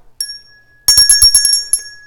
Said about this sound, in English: don't forget to hit the notification bell